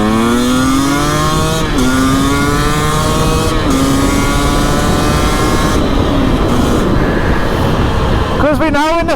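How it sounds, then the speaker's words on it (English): Dirt bike engine revving hard on a country lane, loud and close with rising pitch sweeps through several gear changes, wind roar throughout. "This is where we get to make the bike sing,"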